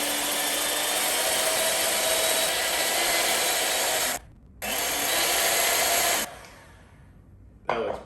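Milk is being frothed for a homemade chai tea latte, a loud continuous whirring hiss that cuts out briefly, resumes, then stops and fades into quieter handling with a final short burst.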